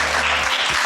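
A burst of loud applause from a crowd at a building ribbon-cutting ceremony, dense clapping filling the moment.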